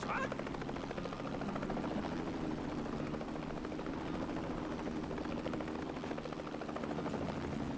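Steady helicopter rotor drone from the video game Mercenaries 2: World in Flames, a continuous even whir that holds at constant loudness throughout, with no voice over it.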